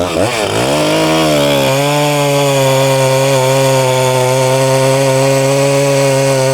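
An Echo 620P chainsaw with a 27-inch bar revs up sharply, then settles into a loud, steady roar as it cuts through an oak log close by.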